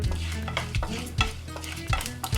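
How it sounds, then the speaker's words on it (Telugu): Mustard seeds, cumin and black gram dal temper in hot oil, with steady crackling sizzle and a spoon stirring and scraping the pan in regular strokes, close and alone without talk. "ఆవాలు, జీలకర్ర వేసి కొంచెం సేపు వేగనివ్వాలి."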